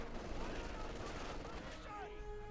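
Mortar and gunfire from a Company of Heroes 2 match: dense overlapping bursts and rattling shots at moderate distance, running under a commentator's talk throughout.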